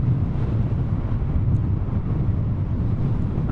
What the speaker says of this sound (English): A little bit of a slope and heading into the wind